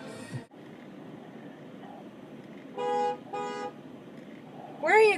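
Car horns honk in traffic in two short blasts a moment apart, then a third horn sounds at the end, all over a steady engine and road hum.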